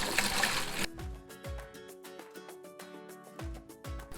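Distilled water poured into the coolant tank of a K40 CO2 laser cart, starting with a brief rushing gush, then a series of hollow glugging splashes and gurgles close by, with no talking.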